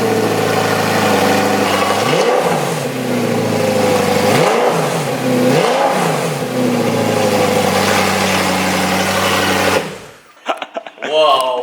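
An Audi R8 fitted with an Armytrix exhaust starts up and revs hard, loud and close, with rising and falling engine sweeps before cutting off near the end, followed by brief excited talk.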